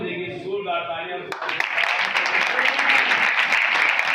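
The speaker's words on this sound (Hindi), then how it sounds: "जोरदार तालियां।" Loud applause from a congregation at a one-day church healing meeting in 49 Chak, Sargodha, beginning with speech and then breaking into dense, sustained clapping that fills the rest of the moment.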